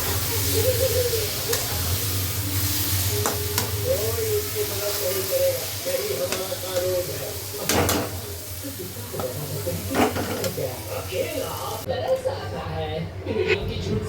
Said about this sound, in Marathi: तर भाजी परतून झाली आहे छान अशी शिजून झालेली आहे